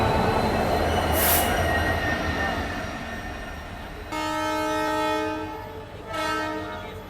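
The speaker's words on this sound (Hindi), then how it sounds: "ये तो लाइट लोको है" A light electric locomotive running alone on the Goa to Londa line near Dudhsagar, wheels squealing and rumbling close by, with a loud horn blast in the middle and another near the end.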